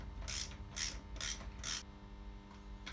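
A socket ratchet tightens a spark plug on a Metro car engine in four quick, crisp clicking bursts, with a fainter fifth at the end, close up and without talk.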